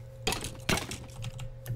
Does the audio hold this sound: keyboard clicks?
yes